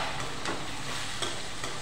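Brinjal curry is stirred in a pan over a soft, steady sizzle. A few light scrapes from the stirring sound close by, with no talk.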